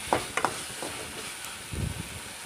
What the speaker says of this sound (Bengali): মশলাগুলো নেড়েছে ভালো করে কষিয়ে নিচ্ছি।